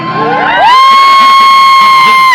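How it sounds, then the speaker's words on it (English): A loud, close burst of cheering and whooping from a crowd of friends and family on bleachers, with a sustained high tone running through it. "They're cheering for you right now."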